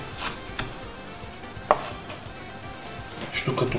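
A red onion is cut into small half-moons on a board, with sparse, irregular knife taps and one sharper knock, quiet and close, against a soft room background.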